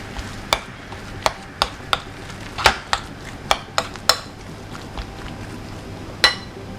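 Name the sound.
mixing sweet potato muffin batter with spices in a bowl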